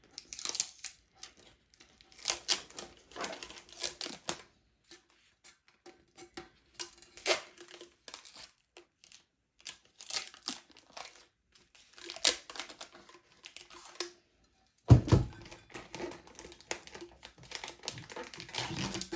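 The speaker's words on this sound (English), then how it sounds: "now I need to lift up the tape that I have on here" Adhesive tape being lifted and peeled off a crafted tumbler, heard as a run of close, soft crinkling and tearing bursts separated by pauses, with a louder rip near the end.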